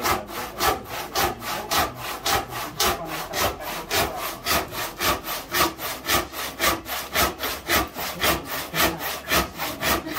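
A reversed Japanese-style pull saw cuts through a wood plank in a Madagascar workshop with steady, rhythmic back-and-forth strokes, each rasping pass loud and close, continuing without pause.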